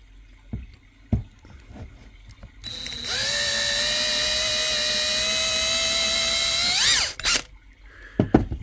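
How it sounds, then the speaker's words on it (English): A power drill drills out a fastener on a truck bed. It whines at a steady high pitch for about four seconds, then winds down, with knocks and clanks from the workshop before and after. "So we'll drill that out."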